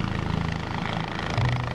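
A military helicopter flying past in Afghanistan, a steady rotor-and-engine drone with a pulsing chop that swells slightly near the end, heard alone without talk.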